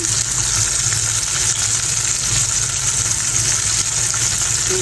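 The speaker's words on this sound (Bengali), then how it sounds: "বেগুনটা মাছের মাথাটা ভালো করে ভেজে নিচ্ছি।" Fish head and eggplant frying in a pan make a loud, continuous hissing sizzle with a low steady rumble beneath, close up and without speech.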